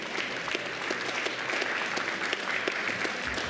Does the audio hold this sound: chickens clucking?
no